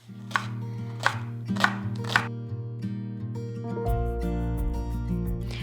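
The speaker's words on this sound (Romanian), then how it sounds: "Toate le vom toca rondele." A knife chops green onions into rings on a board, four crisp, evenly spaced strikes close up, over a sustained tonal background.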